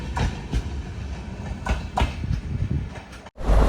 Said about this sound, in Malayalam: SRന്റെ വണ്ടിയാണ്, തിരുവനന്തപുരം ഡിവിഷൻ്റെ വണ്ടിയാണ്.